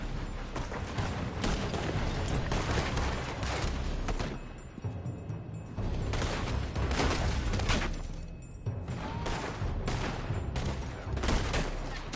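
Gunfire in Red Dead Redemption 2, a sustained fusillade of shots fired from a building, in dense bursts broken by a couple of short lulls, steady and moderately loud throughout.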